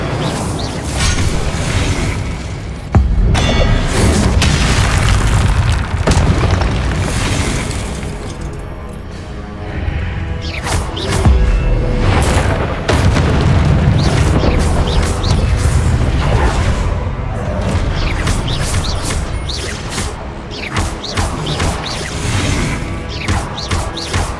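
Fire spells blast repeatedly in Hogwarts Legacy combat, loud crashing bursts and booms layered over dense game sound and music with no pause.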